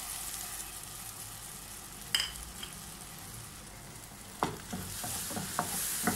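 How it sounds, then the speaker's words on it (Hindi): Ground ginger-garlic paste sautéing in a teaspoon of butter in a frying pan: a steady, close sizzle with occasional spatula scrapes and stirring clatter, busier toward the end, with no talking. "इसमें ये लहसुन अदरक है पिसा हुआ, इसको मैं हल्का सा सौते करूँगी, ब्राउन नहीं करूँगी।"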